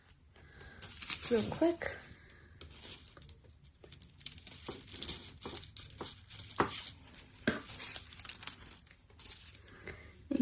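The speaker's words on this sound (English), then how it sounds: "So I'm just going to make some marks and cut it" Printmaking material being marked and cut to size, with crinkling, scraping and cutting sounds coming in bursts close by while a person talks over them.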